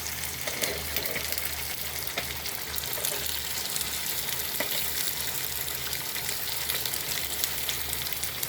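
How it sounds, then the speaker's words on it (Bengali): Food frying in a pan, cooked in small batches and browned until reddish, gives a steady crackling sizzle with occasional stirring scrapes; no one speaks. "অল্প করে ভাজছি"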